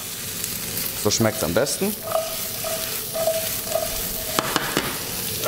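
Cut green asparagus sizzles and fries steadily in a hot pan while being stirred, with occasional scraping clinks, as a person speaks briefly over it.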